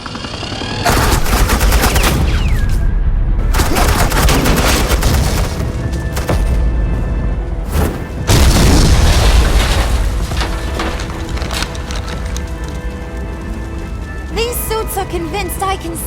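Rapid gunfire and booming explosions from the Batman: The Enemy Within game, dense and loud, with voices talking over the combat.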